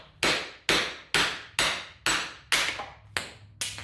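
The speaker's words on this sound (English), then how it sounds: "I should just be able to give it a few whacks and it'll pop out." Eight sharp hammer strikes knocking a PTO seal out of a Case 311B tractor, loud close metallic whacks at an even pace of about two per second, each decaying quickly, with no talking.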